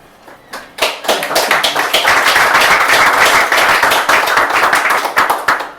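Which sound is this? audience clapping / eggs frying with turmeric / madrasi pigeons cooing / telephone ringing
audience clapping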